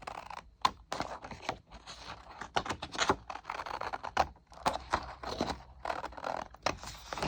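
Scissors cut out paper labels for homemade Ring Pop Halloween party favors, making close, quick, irregular snips and crisp paper rustles.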